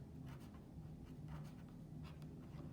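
Pen or marker scratching out a math formula for the area of a parallelogram, a steady run of short strokes over a low background hum, fairly quiet with no talking.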